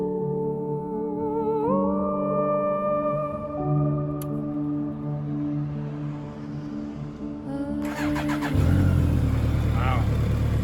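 A motorcycle engine that has sat unused for months cranks and catches, then idles with a steady droning note before revving louder and rougher near the end; no talk over it.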